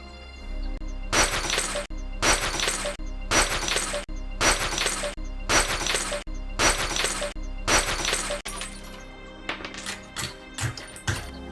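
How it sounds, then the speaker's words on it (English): Glass on a train's emergency equipment cupboard breaks again and again, a fast, evenly spaced series of loud crashing smashes, then a scatter of shorter tinkling breaks at the end. "Simply break the glass."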